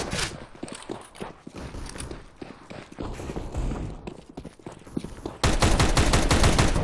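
Gunfire in Counter-Strike: Global Offensive rings out as scattered sharp shots and clattering steps, then a dense rapid burst of automatic fire at the end.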